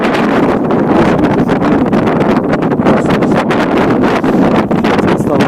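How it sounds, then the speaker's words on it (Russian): Strong icy wind sweeps across a frozen sea during ice fishing for navaga, buffeting the microphone with a steady, loud, roaring rush for the whole stretch, with no voices. "Ветрище, ребят, вообще конский."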